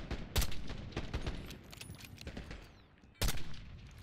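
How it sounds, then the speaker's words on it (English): Explosive mortar fire in Call of Duty Black Ops 6: loud broadband blasts fall at irregular intervals, a cluster early on and one heavy impact near the end, over a constant battle background. "Got mortar fire."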